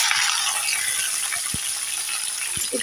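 Okra frying in hot oil in a home kitchen, a steady broadband sizzle with a few faint clinks and stirring knocks underneath, continuous and close throughout.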